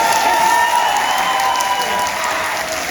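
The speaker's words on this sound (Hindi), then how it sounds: "तो जब भी ये कहे बहुत से जोरदार ताली आखिरी तक सब लोग लगा के" An audience at a college fresher party claps loudly and steadily, a dense sustained applause that carries through without voices on top.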